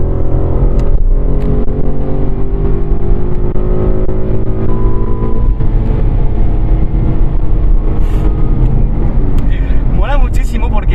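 A Ford Mustang 5.0 V8 of 450 hp with rear-wheel drive accelerates steadily, its engine note climbing and building without a break. Loud, close engine drone runs under continuous talk.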